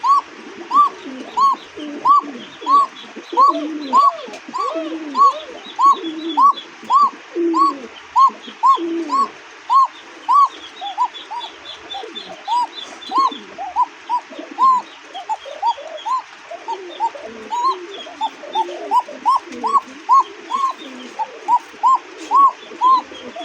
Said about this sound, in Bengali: দেখছেন নট ডাকে মাদি ডাকে একদম চিকন সুরে, হ্যাঁ চিকন সুরের ডাক।